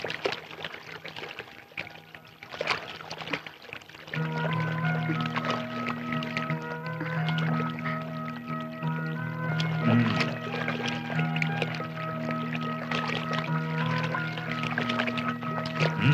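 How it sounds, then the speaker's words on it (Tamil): Cold water poured into a vessel of hot water to cool it for drinking, a steady continuous pour with faint watery gurgling that starts a few seconds in and runs unbroken to the end, with no talk. "இப்படி பச்சை தண்ணி கலக்கணும்."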